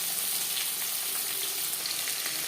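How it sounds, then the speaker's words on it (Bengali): Hilsa fish pieces fry in oil for a few seconds, giving a steady, dense, close sizzle with a faint crackle and no speech. "মাছ আমি হালকা করে ভেজে নেব।"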